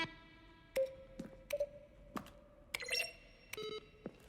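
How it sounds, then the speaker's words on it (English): Button-press sounds from the game The Stanley Parable, each a keyboard keystroke blended with a synthesized tone: several separate clicks with short pitched beeps, evenly spaced and fairly quiet, with no voices. "A selection of the sounds used throughout the game when buttons are pressed. Each sound is a mix of a keyboard stroke and a synthesized tone."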